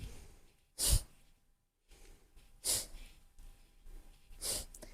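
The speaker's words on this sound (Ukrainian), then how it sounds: "Тут вдих і різкий видих." Kapalabhati yoga breathing done during a back-care routine: three sharp, forceful nasal exhales spaced about two seconds apart, close and fairly loud, with quiet inhales between and no talking.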